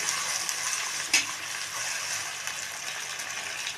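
Chopped tomatoes sautéing in a pan for a country chicken fry, a continuous soft frying hiss with one brief scrape partway through, close and steady, no voices.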